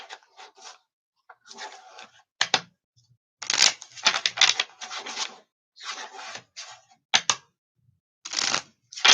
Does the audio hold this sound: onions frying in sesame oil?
no